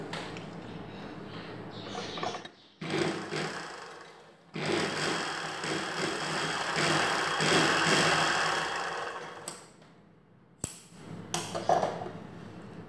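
Sewing machine stitching a katori blouse runs in several bursts: a short run, then a longer steady whirring stretch of several seconds, with pauses and clicks between runs.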